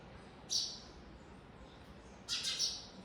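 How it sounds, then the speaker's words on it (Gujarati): Sparrows give two short bursts of chirping, one brief call near the start and a louder cluster of tweets toward the end, set against a quiet, steady background with no talking. "શકલા બધા કીકી કરે છે, નીંદર ન થવા દેતા."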